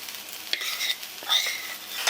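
Rice, lentils and mixed vegetables sautéed with ginger paste are stirred in a pan, with a soft, close sizzle and a few scraping stirs of a spoon.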